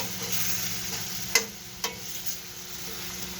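Dinuguan, a Filipino blood and pork stew, is stirred in a pot over a quiet simmer, with a faint steady bubbling bed and a couple of sharp scraping knocks from the spoon against the pot.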